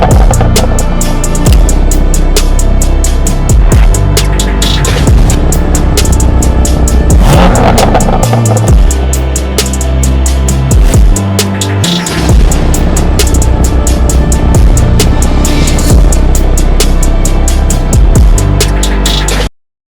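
A BMW M2 fitted with new coils roars loudly and continuously, revving up and down through gear changes, with a sharp drop near the middle before building again.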